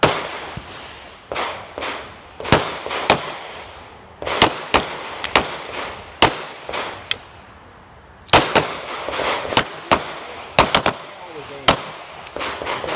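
Handgun shots ring out at a defensive shooting range, sharp loud cracks fired singly and in quick clusters with short pauses between strings, echoing outdoors.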